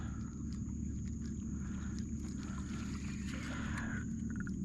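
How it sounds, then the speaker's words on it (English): Continuous low engine rumble of boats motoring away from a busy boat ramp nearby, with water sloshing and faint clatter over a steady droning hum. "Can hear all the boats leaving."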